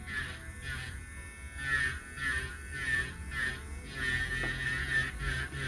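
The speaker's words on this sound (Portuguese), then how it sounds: "Para a área da cutícula eu vou usar a minha broquinha diamantada PM720" A PM720 diamond nail drill bit whirs steadily, filing the cuticle area of a stiletto nail on an F1 form, a continuous high buzzing with slight pulsing as pressure shifts, close and alone.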